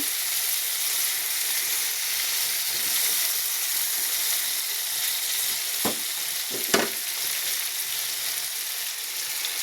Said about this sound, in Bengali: আমার সবজি কিন্তু প্রায় ভাজা হয়ে এসছে